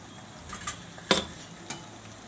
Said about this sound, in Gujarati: તો આપણે આને તળાવા દઈએ છીએ